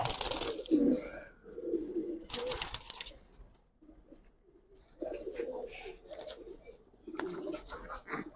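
Giribaz pigeons in Old Dhaka cooing in repeated throaty bursts close by, separated by quieter gaps and broken by sharp noisy rustles.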